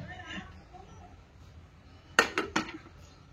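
A pressure cooker lid is set on and locked with three sharp metallic clanks in quick succession, close and loud after a stretch of quiet kitchen background.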